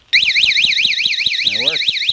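A Viper Powersports 3121V alarm, set off by a shock test, bursts into a loud warbling siren that rises and falls in quick regular sweeps, with a brief chirping tone layered in partway through and soft ticking beneath.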